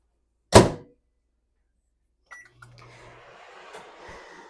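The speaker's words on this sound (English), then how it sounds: "I'm going to put this in the microwave again for about another minute or two." A microwave oven door shuts with one sharp close, then a couple of button beeps are followed by the low hum of the oven starting to run, quiet and close by.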